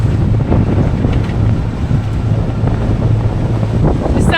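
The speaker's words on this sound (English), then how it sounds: "right now we have wind that is a little bit more friendly" Wind rushing over a sailboat at sea at night, a loud, steady roar with microphone buffeting and a faint wash of waves underneath, no voices.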